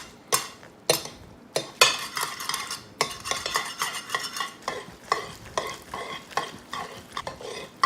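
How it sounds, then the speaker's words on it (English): Spaghetti being tossed and stirred with grated cheese for cacio e pepe, giving close, repeated wet swishing and scraping strokes with light clinks of utensil against pan, steady in rhythm and with no talking. "Now we're gonna add a little bit of the cheese, probably about half of it, and just keep mixing."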